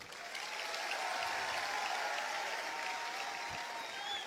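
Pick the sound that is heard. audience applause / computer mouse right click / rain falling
audience applause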